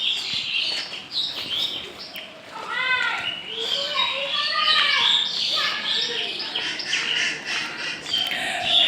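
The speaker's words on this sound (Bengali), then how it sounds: "পাখিদের কিচিমিচি" Common myna birds chatter and chirp in a mango orchard, a busy overlapping flock of bright calls close by, continuous over faint outdoor background.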